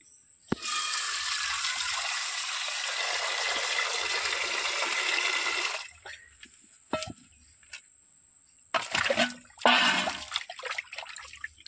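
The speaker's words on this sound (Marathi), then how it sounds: "मी आता हे सगळे बांगडे धुवून घेते" A steady gush of running water for several seconds stops abruptly, followed by intermittent splashes and sloshing as mackerel are rinsed in water.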